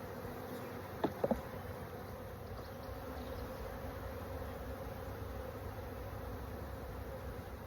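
Honeybees hum steadily around an opened hive during supers removal, a close, even buzz filling the whole stretch, with a couple of brief clicks near the start.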